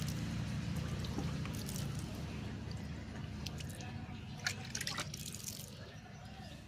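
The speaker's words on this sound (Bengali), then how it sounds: "দাঁড়াও একটু জল দিয়ে নিই। জল দিতে ভুলেই গেছি।" Water poured from a container onto freshly sown papaya seeds in a pot, giving a steady soft trickle and splash that runs the whole time with a few sharper drips near the end.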